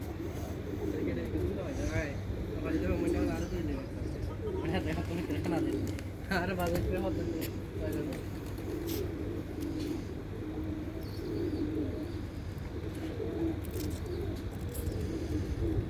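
Pigeons coo in a low, repeated warble while a flock gathers to feed, the soft rolling calls running steadily beneath nearby human voices talking throughout.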